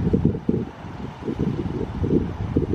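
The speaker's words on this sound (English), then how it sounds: "This wind's horrible." Outdoor wind buffeting a microphone in gusty rumbling bursts, loud and close, rising and falling across the whole moment with no clear voices on top.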